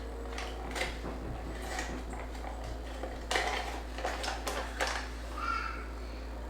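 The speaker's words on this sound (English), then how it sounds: "And then stir it." Utensil scraping and tapping inside a pouch of thick, pudding-like MRE food as it is stirred, a few soft clinks and scrapes spread irregularly over several seconds at close range.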